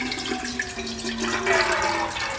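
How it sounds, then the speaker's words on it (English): Soaked soybeans tipped into a pot along with their soaking water, a continuous splashing pour that swells briefly halfway through, close and steady for the whole stretch. "Okay, so I'm going to dump my soybeans with the water I've been soaking them in"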